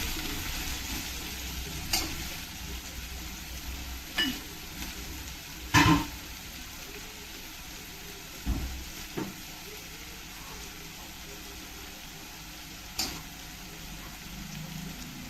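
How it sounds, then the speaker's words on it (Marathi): Onions fry in a pan for a bhaji, a quiet continuous sizzle with a few scattered taps and scrapes of a spoon stirring them, no voices. "2-3 मिनिटं याला भाजून द्यायचं कांद्याला चांगला."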